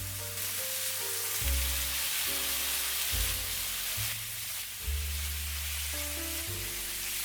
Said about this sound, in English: When the oil is hot, place the salmon skin side down on the pan.